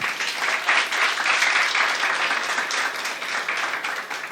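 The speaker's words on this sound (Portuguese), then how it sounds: "Vamos aplaudir Jesus?" Steady, dense applause from a church congregation during a celebration service, filling the whole stretch at an even, full level without a break.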